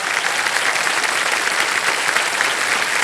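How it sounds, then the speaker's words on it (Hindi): An audience claps for a contestant on the Hindi quiz show KBC, dense and steady applause filling the whole stretch, loud and close with no talk over it. "तो तालियां बज जाएं एक बार इनके लिए।"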